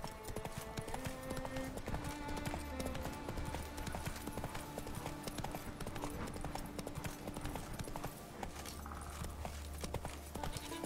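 Horse hooves clip-clop steadily in the Fortnite video game, a brisk, continuous trotting rhythm layered with game sounds and music, loud and close throughout.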